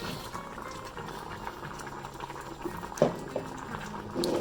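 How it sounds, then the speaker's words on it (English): A pot of tofu curry boils vigorously, a continuous bubbling and gurgling close by with a few louder pops near the end. "So when it gets boiled like this, when loads of bubbles are going to the top of the pot"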